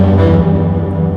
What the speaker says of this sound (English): this cello is also a real cello.